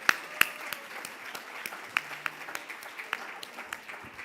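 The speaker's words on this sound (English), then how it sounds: "Let's do another big round of applause for all the winners" Audience applause for award winners at a corporate wellness event in India, thin and scattered, with distinct individual claps popping over a soft background patter.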